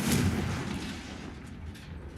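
A Confringo fire spell in Hogwarts Legacy sets off a single heavy booming blast that opens loud and fades into a rumbling tail.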